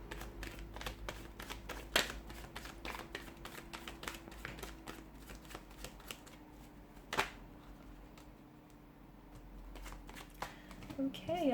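Tarot cards are shuffled in quick crisp riffles and flutters, close and fairly quiet, with a few sharper snaps along the way and soft talk in the background.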